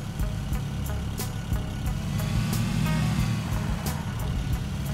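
A car driving in a video game produces a steady low engine rumble with faint rattles and clicks, loud and continuous with no talk.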